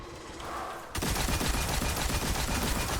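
Rapid, sustained gunfire at an ogre in the Destiny Nightfall strike Savathun's Song breaks out suddenly after a quieter moment, then continues as a loud, dense stream of shots.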